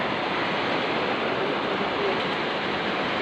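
Floodwater rushing steadily toward a canal, a dense, continuous broadband roar with no breaks, loud and close.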